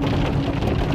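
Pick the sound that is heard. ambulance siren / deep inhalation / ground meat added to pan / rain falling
rain falling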